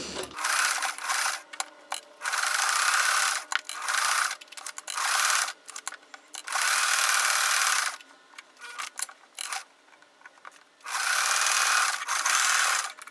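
Sewing machine zigzag stitching over fabric scraps and fusible, running in repeated bursts of whirring with short pauses between, close and steady, no talk.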